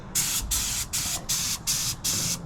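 A spray gun paints sanded ATV rims on a Yamaha Raptor 700R, hissing in six even, steady bursts separated by short pauses, close and alone with no talk.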